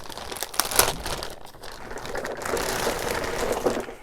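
Plastic bag crinkling up close, with sharp crackles early on, then a steadier rustling handled continuously, no voices.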